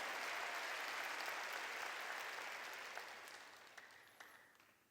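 Congregation applause during a church worship service, a dense wash of clapping that holds steady for several seconds and then gradually thins and fades, with a few last isolated claps at the end.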